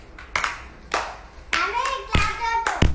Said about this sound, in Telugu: క్లాప్స్ కొట్టండి మీరు.